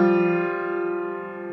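Several piano notes struck together in a single chord, ringing out and slowly fading with no talking.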